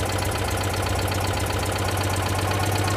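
A freshly rebuilt Citroën 2CV twin-cylinder engine idles as it warms up, with a steady low throb and a fast, even mechanical patter, close and unbroken with no voices.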